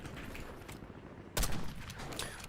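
PPSh submachine gun fire in Call of Duty: a sharp, loud burst of automatic shots lands in the middle of a steady game backdrop, followed by a lingering rattle of distant gunfire.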